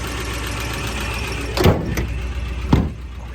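1958 Edsel Corsair Hardtop engine running at a steady close idle, with two sharp squealing or clunking bursts as it prepares to pull away.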